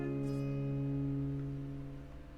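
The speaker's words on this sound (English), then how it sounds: "without anything to continue the noise after you reduce your volume pot, it'll sound like this." Sustained electric guitar notes ring clean and steady, then drop away quickly as the volume knob is turned down, with no delay or echo trailing after them.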